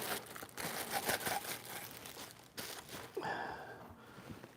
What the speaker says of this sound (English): Here's the neck. I'll unwrap this so you can see that as well.